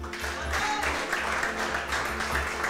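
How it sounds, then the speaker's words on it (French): A church congregation claps in praise, steady rhythmic applause at moderate volume with a faint low hum underneath and no clear talk. "Acclamez le Seigneur"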